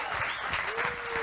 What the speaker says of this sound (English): I am seriously shocked that they're applauding that